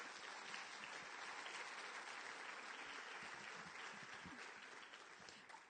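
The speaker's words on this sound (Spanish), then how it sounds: "Dar un aplauso al Señor." A church congregation applauds the Lord in sustained, dense clapping that fills the space evenly and fades slightly at the end, with no voices over it.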